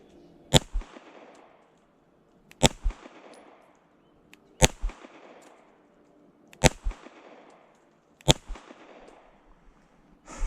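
Five sharp pistol shots from a CZ Shadow 2 Compact crack out at a steady pace about two seconds apart, each loud and close with a quick echoing tail, and a short clatter follows each report.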